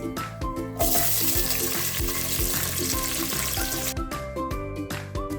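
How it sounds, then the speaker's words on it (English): Sliced onions drop into hot oil with whole spices for a mutton curry, giving a bright, continuous sizzle and frying crackle. Faint musical tones sit underneath, and a few soft clatters sound at the start and end. "Now I am putting the 2 sliced onions."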